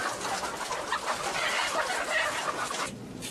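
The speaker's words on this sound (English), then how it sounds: "Just one shed at Buckeye Egg Farm confines tens of thousands of hens in tiny battery cages." Thousands of hens clucking in battery cages inside an egg farm shed, a dense, continuous chorus of overlapping clucks and squawks at moderate loudness, with no talking.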